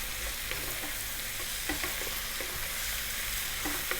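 Cabbage cooked down with chili powder and turmeric sizzles steadily in a pan while being stirred, with soft scraping clicks of the utensil scattered through the continuous frying hiss.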